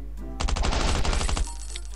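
A rapid burst of AK rifle fire in the survival shooter Last Island of Survival, about a second of close, loud automatic shots that start and stop abruptly.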